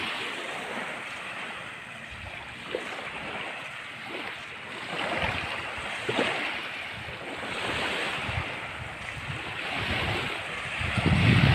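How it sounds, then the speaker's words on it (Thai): Strong wind and breaking surf on a Koh Samui beach on a rainy, overcast day, a continuous rushing roar of waves with gusts buffeting the microphone, steady throughout and with no voices. "ช่วงนี้ก็ลมแรงนะครับ ขึ้นลมแรง ก็จะมีขยะมาเกยหาดนะครับ"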